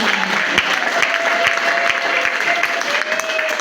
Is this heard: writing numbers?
no